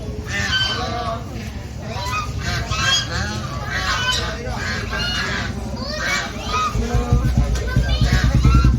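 Domestic ducks honk and call repeatedly in a lively cluster nearby, their calls mixing with voices in the background and growing busier toward the end.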